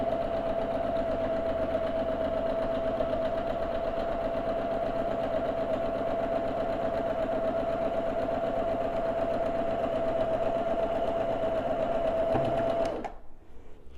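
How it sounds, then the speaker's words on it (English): A sewing machine stitching a quarter-inch quilt seam runs at a steady, loud, even whir for most of the stretch, then stops abruptly near the end. "now we're going to sew this seam again, another 1/4 inch seam"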